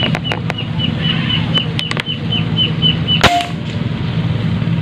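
An air gun fires Astro/Meteor pellets during an accuracy test: one sharp crack lands near the middle, over a steady low background hum with a few faint ticks before it.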